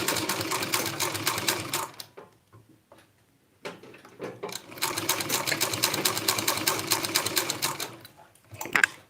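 A domestic sewing machine runs in two stitching bursts on fabric being turned and sewn, a steady close whirring chatter broken by a pause with a few faint clicks before the second run.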